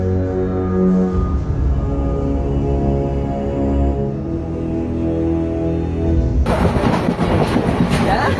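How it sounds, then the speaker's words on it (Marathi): A passenger train moving at a station makes a steady, loud mechanical rumble and hum that swells into a brighter rushing roar near the end. "अपनी ट्रेन जा रही है उधर"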